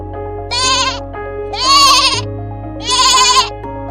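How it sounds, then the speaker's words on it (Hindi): A goat bleats loudly three times in a row, each wavering cry lasting about half a second with short pauses between, clear and close over a low steady background hum. "देखा, तुमने देखा, ये बकरी ही है।"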